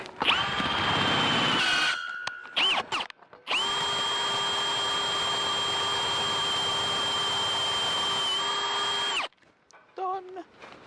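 Power drill whirs in one long sustained run of about six seconds, a steady high tonal whine, preceded by short bursts of drilling and followed by a few brief clicks and quiet handling.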